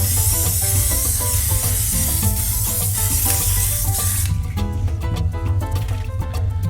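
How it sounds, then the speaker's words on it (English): Tesa spray glue is sprayed onto accordion grill cloth in one loud, continuous aerosol hiss lasting about four seconds, up close, then stops; music plays underneath throughout. "I have this Tesa spray glue."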